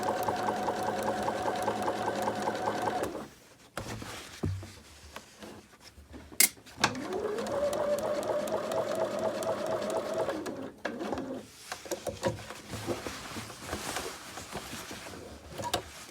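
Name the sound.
sewing machine stitching a back pocket onto pants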